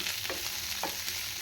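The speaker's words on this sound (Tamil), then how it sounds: "வெங்காயம் கொஞ்சம் நல்லா வதங்கி வரட்டும்" Onions sauté in a pan for a cauliflower gravy, a dense, close, continuous frying hiss with soft stirring scrapes at intervals and no talk.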